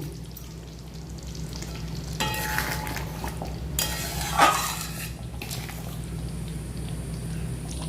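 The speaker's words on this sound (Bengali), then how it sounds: "গ্রেভিটা ফুটে গেছে দিয়ে দিচ্ছি হালকা ভেজে রাখা পনির" Lightly fried paneer cubes dropped into a boiling gravy and stirred, giving a steady sizzle and bubbling with occasional utensil scrapes against the pan, close and moderate in level with no speech.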